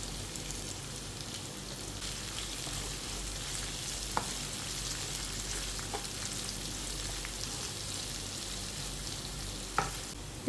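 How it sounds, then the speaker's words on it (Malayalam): Sliced onions and coconut pieces with garlic paste fry in a pan for a Christmas mutton fry, making a soft, even sizzle throughout. A few faint taps are heard as the mixture is stirred. "നമ്മളിട്ട് കൊടുത്ത ഉള്ളിയും തേങ്ങാക്കൊത്തും എല്ലാം ഇതുപോലെ നന്നായിട്ട് മൂത്ത് വന്നിട്ടുണ്ട്."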